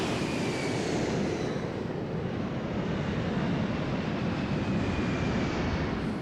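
Large airplane with no passengers aboard taking off, a continuous dense engine roar that holds steady and loud throughout, with a faint high whine over the broadband rumble and no talk.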